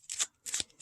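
Two quick shuffles of a small vintage tarot deck, crisp papery rustles close to the microphone and separated by a brief pause.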